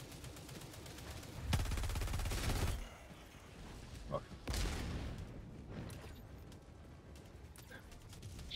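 Gunfire in the Helldivers 2 game, two loud sustained bursts of rapid shots separated by a quieter stretch, with a faint distant background rumble.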